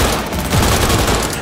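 Rapid automatic gunfire in the Cyberpunk 2077 video game, a short loud burst of dense overlapping shots filling the moment.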